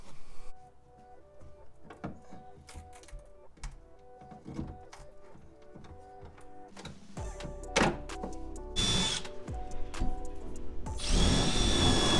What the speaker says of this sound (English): we're just gonna drill out a little hole